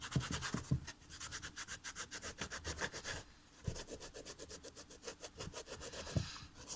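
An eraser rubbed back and forth over a Moxi suede roller skate boot, a close, rhythmic scratchy scrubbing in quick repeated strokes with a short pause midway, no talking.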